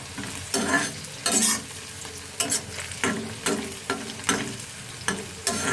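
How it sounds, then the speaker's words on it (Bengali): Bitter gourd, pumpkin and onion fry in a pan under a soft sizzle, broken by regular scraping strokes of a spatula stirring the pieces. The sound is close and steady, with no voices. "উচ্ছে কুমড়ো আর পেঁয়াজের ভাজা হচ্ছে"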